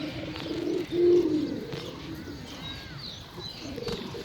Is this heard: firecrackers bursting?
no